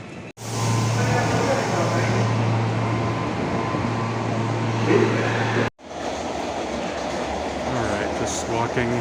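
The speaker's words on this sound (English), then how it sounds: "just walking through the subway tunnel right now" Walking through a subway tunnel in Kyoto, Japan, with a loud continuous rumble of trains and ventilation filling the space, cut by two brief drops to near silence, and a few faint voices underneath.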